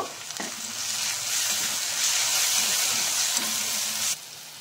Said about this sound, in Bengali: এক চামচ জিরে বাটা, এবার নেড়ে দেব।